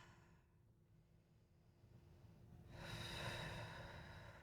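During a yoga hold, a single slow breath is drawn in and then pushed out more forcefully through the nose, close and soft against a quiet room.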